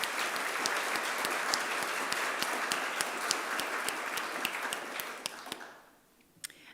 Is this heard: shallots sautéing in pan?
no